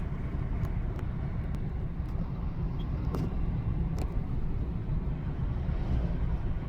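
Steady engine and tyre rumble from a car driving on the road from Harare toward Mutare near Headlands in Zimbabwe, a continuous even drone with no talking.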